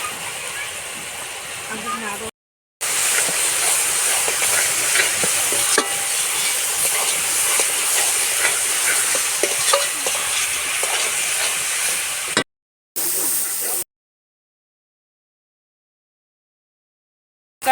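Cabbage frying in a pan with ginger paste, a loud, steady, hissing sizzle with stirring scrapes that runs for several seconds, broken by brief cuts and ending in silence.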